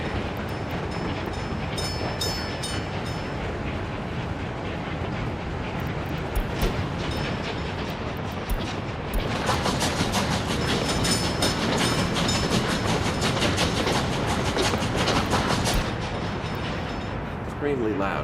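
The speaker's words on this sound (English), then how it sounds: "Extremely loud train." A 155 km/h train running in the video game Workers and Resources, a loud continuous rumbling roll with rhythmic clatter that swells louder partway through, steady and without talk.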